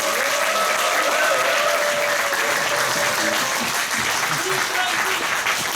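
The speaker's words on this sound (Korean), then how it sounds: "힘찬 박수로 우리 이정국 박사를 응원해 주십니다." Audience applause fills a book launch event for a public finance book, steady sustained clapping from a seated crowd throughout, fairly loud and close.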